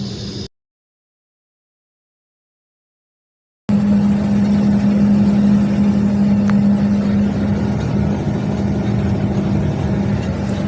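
Vehicles stand idling in a traffic jam at Naradpur, their engines giving a loud, steady low drone with a constant hum. A short burst of noise opens, then a few seconds of silence before the idling continues; no one speaks.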